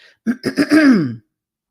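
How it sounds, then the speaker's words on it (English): A single close throat clearing from someone with a lingering post-COVID throat irritation: a few quick rough rasps that build into one longer gravelly clear, then silence. "please forgive me for constantly clearing my throat"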